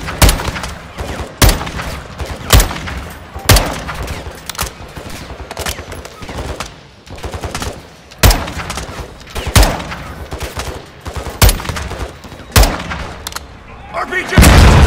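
Bursts of rifle fire and heavy blasts in a Call of Duty: Modern Warfare II battle, sharp loud reports recurring every second or two over ambient combat noise, with occasional voices.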